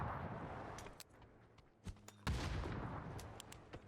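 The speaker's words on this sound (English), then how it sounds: "The nades are good, and the barrage keeps continuing" Grenade barrage in a competitive battle-royale esports grand final, with a steady wash of distant blasts and crackling gunfire, a short lull, then a louder burst of thumping explosions that keeps rolling on.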